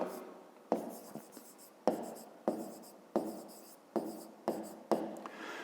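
Pen strokes on paper for a fifth-grade math exercise, a series of scratchy writing bursts with short pauses between them, close and fairly quiet, with no talking.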